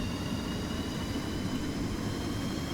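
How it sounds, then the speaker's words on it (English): Steady, loud engine roar of a jet-powered boat speeding across water in the video game Stormworks, a continuous low rumble with a thin high whine on top and no talking. "this jet-powered boat goes very fast."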